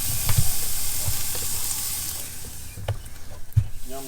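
Two ribeye steaks sizzle on a Kamado Akorn Jr grill at about 650 degrees, a constant close hiss with occasional pops and light clanks of handling.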